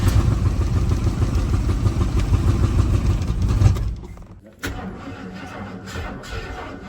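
A 1980 Jeep J10 engine cranks in a long, steady, rough grind for several seconds, then cuts off abruptly, leaving quieter mechanical clatter.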